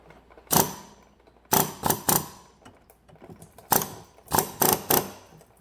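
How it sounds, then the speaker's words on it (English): Short bursts of an air chisel hammering against the lock ring of a DEF pump on a 2017 GM 6.6 L5P truck, rapid rattling blasts separated by pauses, close and loud. "I used the air chisel to turn the lock ring"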